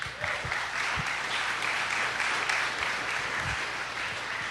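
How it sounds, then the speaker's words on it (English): Audience at a mountain-bike athlete talk applauding for Greg Minnaar, a steady wash of many hands clapping at moderate volume, continuous from start to finish. "Another round of applause for Greg here."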